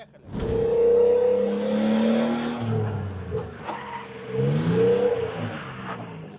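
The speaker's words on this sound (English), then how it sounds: "Give it some gas." A car accelerates hard through a handbrake drift, its engine climbing in pitch, then easing and revving up again as the tires scrub, loud and close over about six seconds.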